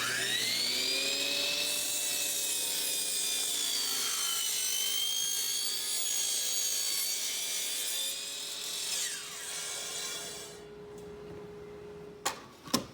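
A carbide-tooth saw cuts through aluminum with a sustained, high metallic whine and a rough grinding rasp. Near the end the cut winds down and a couple of sharp clicks follow.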